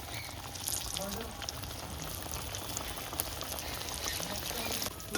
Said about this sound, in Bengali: মাছগুলো একদম কড়া করে লাল লাল করে প্রিয়াঙ্কা ভেজে নিচ্ছে।